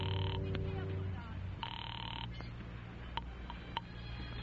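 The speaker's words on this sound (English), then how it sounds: "And then I got the phone and called Fran's old number" An old-style telephone rings on a call in two clear bursts, the first at the start and another about a second later, heard close over a low hum, followed by a few faint clicks.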